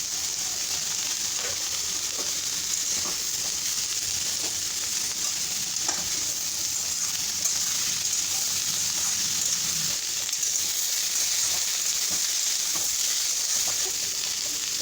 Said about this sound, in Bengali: উচ্ছেটা আমি 2-3 মিনিটের জন্য ভেজে নেব, তারপর আলু দিয়ে দেব।